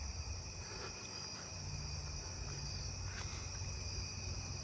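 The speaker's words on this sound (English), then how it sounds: "There's narrow-winged tree cricket." Narrow-winged tree cricket trilling steadily at night, a faint continuous buzz alongside other insect calls and a low background hum, with no voices present.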